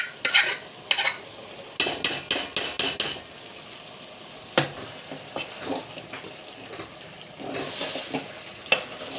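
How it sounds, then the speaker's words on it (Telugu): Boiled toor dal stirred into vegetables frying in oil in a pan for an Andhra-style Guntur gongura mutton curry, with sharp, repeated scraping and clinking of a spoon against the pan over a faint sizzle, and no talk. "ఇది కూడా కాసేపు వేగాలండి ఈ ముక్కలతో పాటు కందిపప్పు"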